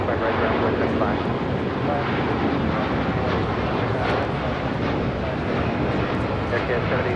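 Broadband roar of airplanes at LAX airport, a loud, continuous jet rumble filling the whole stretch without pause, close and steady.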